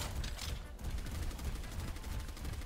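Orisa from Overwatch firing her rapid-fire weapon, a continuous stream of closely spaced loud shots rattling steadily for the whole clip.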